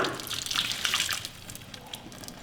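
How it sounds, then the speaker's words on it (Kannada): Water from boiled field beans is poured off and strained, a close splashing, trickling rush that is strongest at first and thins to a softer dribble. "ಈಗ ಈ ನೀರೆಲ್ಲ ಸೋಸ್ಕೊಂಡ್ಬಿಡೋಣ"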